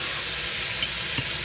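Onions and garlic fry in a pan with a dense, steady sizzle, close up, broken by a couple of faint spatula clicks.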